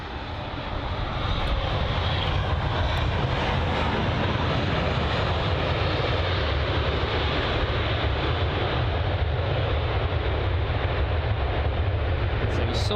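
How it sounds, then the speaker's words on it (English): A KLM Boeing 737-800 jet departs from runway 27 left at London Heathrow with a continuous, loud engine roar that stays level for the whole stretch and sounds fairly close. "the KLM 737-800 had departed from runway 27 left"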